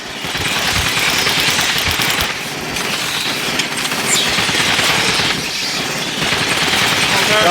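Video game Alien: Fireteam Elite weapon fire, loud rapid gun bursts crackling close in several sustained volleys with short gaps, amid chaotic combat noise.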